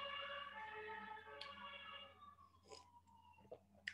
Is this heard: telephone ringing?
no